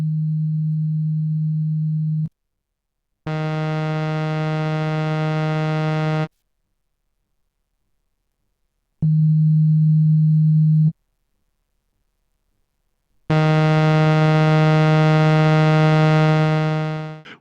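Synthesized tones from an Arturia CMI V Fairlight emulation, alternating a pure sine-like hum with a bright, buzzy sawtooth wavetable tone rich in partials, each held for a few seconds with silent gaps between, loud and clean.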